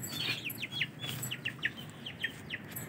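Pet budgerigars in an indoor setup chirp in a quick string of short, high tweets, about a dozen in three seconds, fairly faint and close.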